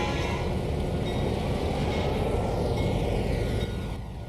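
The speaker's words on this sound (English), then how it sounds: "we are moving some caboose and one of the shoving platforms" In the Trainz railroad simulator, a train moves cabooses and a shoving platform, giving a loud, continuous rumble of rolling wagons with faint rail clatter and squeal, fading slightly at the end.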